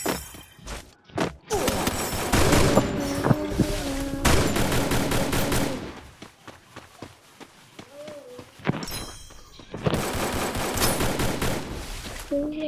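Gunfire in a shooter video game, with rapid bursts of automatic shots and sharp single cracks spread through the clip, loud and close, mixed with game sounds and a voice talking over it.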